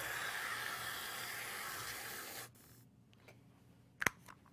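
Whipped cream sprays from an aerosol can onto an Italian soda in a long, loud, steady hiss that cuts off abruptly, followed by quiet and a short sharp clink.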